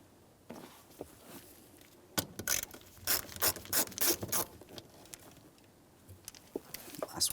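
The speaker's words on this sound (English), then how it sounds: "we'll continue on with a Phillips head screwdriver to remove all of the hardware" A Phillips head screwdriver backs out mounting screws from a shield under a 1992-1996 Toyota Camry during fuel pump work, a close run of quick ratcheting clicks and scraping turns in bursts with quieter handling noises around them.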